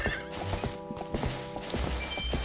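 A horse in Zelda: Twilight Princess trots with rhythmic clip-clop hoofbeats and gives a short whinny near the start, crisp game sound effects up close.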